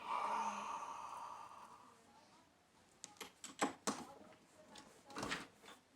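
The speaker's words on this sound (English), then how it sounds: "just had to close the window there for a second" A window being shut indoors, heard as a few quick, fairly close knocks and clatters of the frame sliding and latching, following a soft breathy stretch with no talk.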